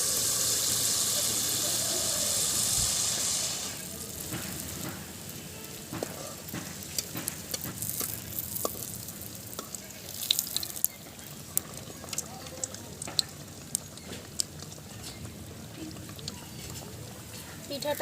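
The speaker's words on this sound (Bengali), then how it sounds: "পিঠাটা ভেজে নেওয়া হয়ে গেছে" Coconut pakan pitha frying in hot refined oil, a steady close sizzle and crackle that starts loud and broad, then settles into a softer bubbling hiss with scattered sharp pops.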